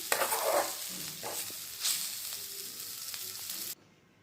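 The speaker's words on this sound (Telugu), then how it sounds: "ఈ పల్లీలు పౌడర్ వేసుకున్న తర్వాత కొద్దిసేపు డీప్ ఫ్రై చేసుకోవాలి బాగా నీట్గా కలుపుకొని" Fenugreek leaves fry with peanut powder and are stirred in a pan, a steady crackling sizzle with occasional spatula scrapes, close, ending abruptly.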